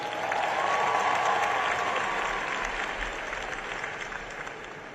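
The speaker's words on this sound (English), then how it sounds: "And let's give President Biden another round of applause as well." Applause for President Biden rolls through a big audience at a Howard University commencement, loudest near the start and slowly thinning as it goes on, with a faint ringing tone riding over the clapping early on.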